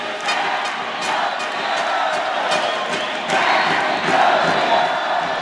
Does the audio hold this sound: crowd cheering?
yes